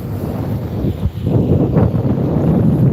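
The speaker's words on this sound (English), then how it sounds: "It's gonna be a windy one" Steady gusty wind buffets the microphone on a fishing dock in the morning, a continuous low roar with a brief dip partway through and no talking.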